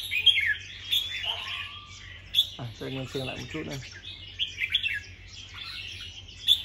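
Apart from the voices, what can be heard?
red-whiskered bulbul calling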